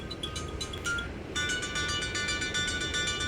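HTC Windows Phone ringtone with a bright, synthesizer-like tone, playing as a series of chiming notes that grow fuller and denser partway through over a steady low background hum.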